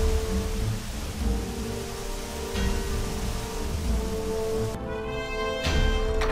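Steady rain in the video game Minecraft makes a constant hiss with no pauses, and a few faint tonal game sounds come through near the end. No one speaks.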